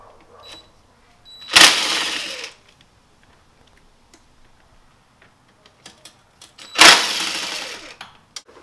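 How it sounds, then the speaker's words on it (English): An impact tool unbolts the oil pan of a Jeep in two loud, short buzzing bursts several seconds apart, with quiet clicks and metal handling noises in between. "just start unbolting all the things that look like they're associated with the oil pan,"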